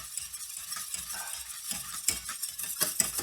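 A whisk stirs béarnaise sauce in a saucepan in a figure-eight motion, giving soft continuous scraping and swishing with faint clinks of metal against the pan, steady and close, no voices.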